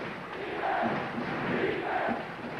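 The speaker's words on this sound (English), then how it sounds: "Crowd getting back into it." A basketball arena crowd roaring and cheering in a sustained, dense wash of noise during a 1986 college game between Duke and Oklahoma, with swelling shouts and no clear talk above it.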